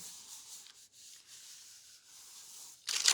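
Continuous soft rubbing over paper as a stamp is pressed and rubbed down by hand, close and steady with brief pauses, ending in a louder scratchy burst.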